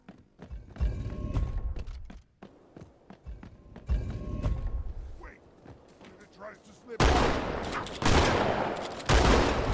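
Gunfire in the Halo 2 campaign crackles in bursts of rapid shots, broken by quieter gaps and ending in a louder, denser barrage, with voices talking over parts of it.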